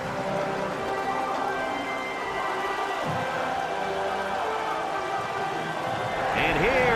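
Steady rain over a football stadium in NCAA Football 2004, a constant hiss of falling water filling the scene while a commentator's voice talks over it.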